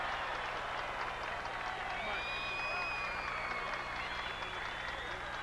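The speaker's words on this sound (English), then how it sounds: "And now Woody Hayes has just been introduced to this crowd, receiving the standing ovation." Stadium crowd at a 1984 high school football game between Warren Harding and Massillon giving Woody Hayes a standing ovation, a steady wash of distant applause and cheering with a voice speaking over it.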